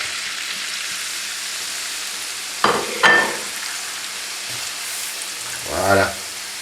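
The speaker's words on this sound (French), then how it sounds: "on va mettre dans de l'huile ces pâtes que nous allons frire" Noodles for a Thai khao soi soup dropped into hot oil, a steady close sizzle punctuated by a couple of sharp bursts as the batches hit the oil, then a final louder crackle.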